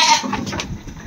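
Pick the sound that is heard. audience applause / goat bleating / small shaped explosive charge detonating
goat bleating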